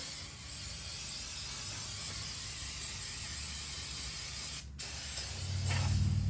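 Brake cleaner spraying onto a brake rotor during a suspension and brake rebuild on a 1979 Trans Am: a steady, loud aerosol hiss runs almost continuously, briefly cutting out near the end before resuming with a low rumble.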